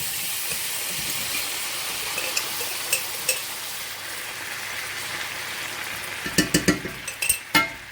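Drained canned potatoes fry in butter in a black iron skillet with a steady hiss, a few louder pops and spits toward the end.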